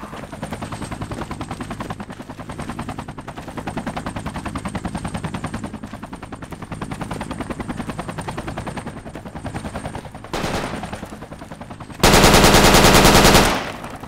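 Gunfire in a video game, with long sustained bursts of rapid machine-gun fire, loud and close, ending in a very loud blast near the end. No one talks.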